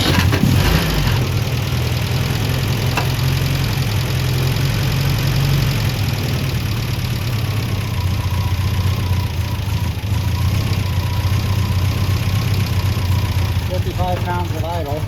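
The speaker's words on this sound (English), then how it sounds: "it doesn't want to idle exactly all that well right now" A 1971 MGB GT engine idles roughly and unevenly, a close, continuous low rumble with an irregular beat that never settles.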